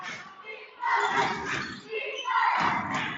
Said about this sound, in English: The crowd's going to be getting pretty loud here